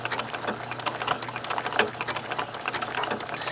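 A sewing machine stitches down quilt binding with polyester monofilament thread, making a quick, even mechanical ticking and whirring that runs nonstop up close, with no speech.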